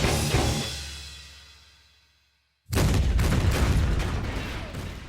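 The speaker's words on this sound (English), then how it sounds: "Another explosion rocked MechWarrior Creedon's Hellfire as his star continued a fighting retreat" A heavy blast fades into a long decaying rumble, followed after a brief silence by another sudden loud explosion that roars and slowly tapers.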